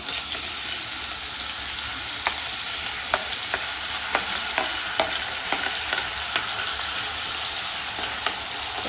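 Ginger-garlic, onion-tomato and garam masala pastes fry in hot oil for Maharashtrian mutton curry, a dense continuous sizzle close up, punctuated by regular sharp spatula taps against the pan.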